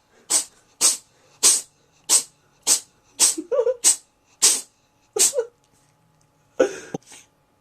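A cat sneezes again and again in a rapid fit of about ten sharp, close sneezes at roughly even intervals, with a few small squeaky breaths between them and a short pause before the last ones.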